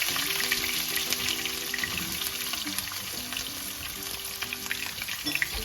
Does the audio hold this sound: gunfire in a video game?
no